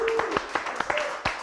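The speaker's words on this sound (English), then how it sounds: "give a round of applause for Mr. Richard Blackwood as well. Round of applause." A few sharp, spaced claps ring out at a TV show wrap-up, sparse and uneven rather than a full ovation, fairly close and moderately loud, with faint voices in the background.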